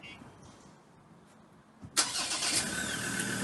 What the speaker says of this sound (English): We can press the remote start function there, and the vehicle will then start.